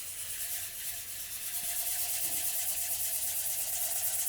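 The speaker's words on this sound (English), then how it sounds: "I like to apply the oil and sand at the same time." Steady abrasive rubbing of sandpaper against an oiled wood-turned bowl, a continuous close hiss with no talking.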